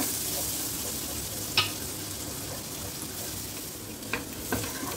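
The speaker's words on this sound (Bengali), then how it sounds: "এবার বাটারের মধ্যে আমি দিয়ে দেবো অল্প রসুন আদা কুচি দিয়ে একটু ভালোভাবে এটাকে এর মধ্যে ভেজে নেব" Chopped garlic and ginger sizzle in melted butter in a pan, a steady soft frying hiss with a few sharp clicks of stirring, no voices.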